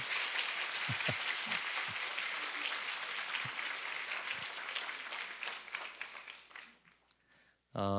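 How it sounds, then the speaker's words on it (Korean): A church congregation applauds a newly formed band during a Sunday service, a broad sustained wave of clapping with some voices that gradually thins out and fades before a sudden new sound cuts in. "우리 박수로 한번 B밴드 격려해 주시겠습니까?"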